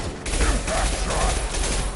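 Gunfire in the video game Mass Effect 2: a dense, loud burst of rapid weapon fire that rattles on continuously for about two seconds.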